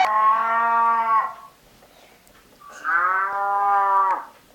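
A cow moos twice, long loud lowing calls close up, separated by a quiet pause.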